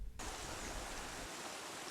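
Garden river flowing through a tunnel at Montreal Gardens in St. Vincent, a steady close rushing wash of water that starts abruptly and continues evenly.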